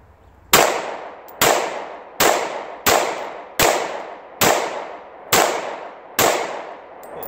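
Eight sharp pistol shots from a Glock-style handgun fitted with a G19 slide and firing Tula ammunition, spaced roughly a second apart, each loud crack trailing off in a short echoing decay, no voices.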